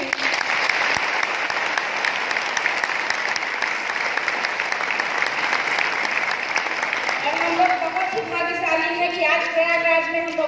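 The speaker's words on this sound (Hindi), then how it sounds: "उसके लिए हम एक बार आप लोगों से अच्छी तालियां चाहते हैं।" Sustained audience applause at a business plan presentation rolls on steadily throughout, with a voice and music tones coming in over the clapping toward the end.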